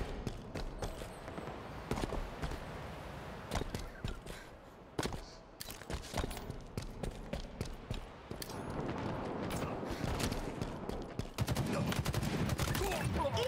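Rapid bursts of gunfire in a Halo Infinite online multiplayer match, dense and loud, with overlapping shots and automatic fire running almost continuously.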